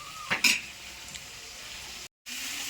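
Mutton curry is stirred in a pan, with a couple of metal spoon scrapes and clinks early over a steady low sizzle, briefly cut to silence near the end.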